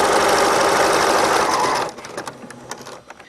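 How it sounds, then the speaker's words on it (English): A sewing machine runs a straight stitch about 1/8 inch from an existing seam, giving a steady close whir for roughly two seconds before it stops and only quieter handling sounds remain. "I'm going to stitch about 1/8 inch away from that current seam"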